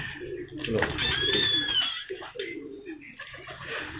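Racing and breeder pigeons coo softly in a loft, with repeated low burbling calls and a brief higher whistle as someone talks over them.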